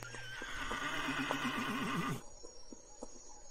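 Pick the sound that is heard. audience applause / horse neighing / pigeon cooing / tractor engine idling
horse neighing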